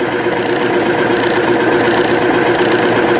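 Timken bearing test machine running under weights with Cerma oil, a loud steady mechanical whir and grinding hum, continuous and close with no pauses or talk.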